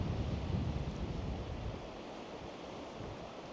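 Waves washing ashore where a stream runs into the sea at Glen Mooar on the Isle of Man, a steady broad rush of surf mixed with wind noise, louder at the start and then settling to an even wash.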